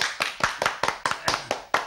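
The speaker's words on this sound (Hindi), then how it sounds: "एक बार जोर से तालियां लगाओ।" Children in a classroom clap together in a quick, even rhythm, about eight sharp claps in under two seconds, close and with no talk over them.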